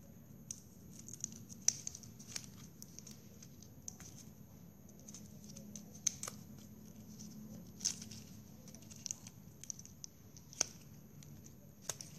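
Scissor tips work at a plastic drinking straw to loosen it, making faint, scattered ticks and small plastic clicks at close range over a quiet hiss, with no talk.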